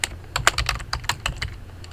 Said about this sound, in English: when I click here and start typing